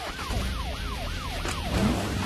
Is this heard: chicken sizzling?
no